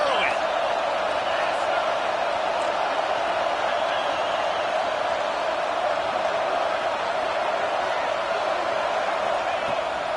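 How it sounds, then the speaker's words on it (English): A large stadium crowd at a Penn State football game roars in a dense, steady wash of noise, loud and sustained throughout, with no clear breaks. "This crowd bringing the energy and noise early."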